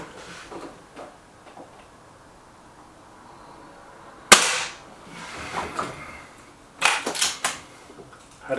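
An air rifle fires .22 pellets with a single sharp, fairly loud crack midway. Rustling and clicks of handling follow, with another bright knock or impact a couple of seconds later.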